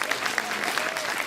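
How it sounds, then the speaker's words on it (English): A gala audience at a Democratic Party event applauds Beverly Perry, a dense, steady round of many hands clapping throughout, with faint crowd murmur underneath. "Give Beverly a big round of applause."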